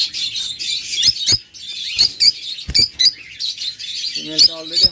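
Pet lovebirds, cockatiels and budgerigars chirp and tweet continuously in an aviary, a busy overlapping chorus of high calls, with a brief lower-pitched vocal burst near the end.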